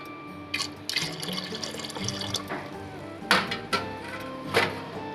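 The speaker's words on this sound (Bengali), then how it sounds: "এখানে আমি জল দিচ্ছি মোটামুটি একশো পঞ্চাশ গ্রাম বুগনি মটর এবং তিনটে আলু দেওয়ার পরে" Water is poured from a tap into a pressure cooker holding ghugni peas and potatoes, with a close, splashing, trickling flow and a few louder gushes, with no talking.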